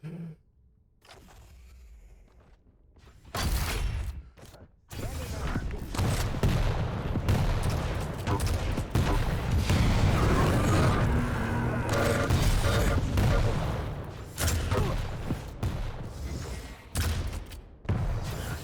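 A rocket launcher fires in a one-on-one duel video game tournament match, with repeated booming shots and explosions amid dense weapon fire while a commentator talks over them.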